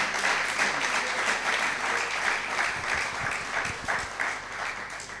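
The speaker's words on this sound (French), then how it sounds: "On peut encore acclamer." A large audience applauds at a master class, steady sustained clapping at a loud, even level throughout, with a few voices faintly audible beneath the applause.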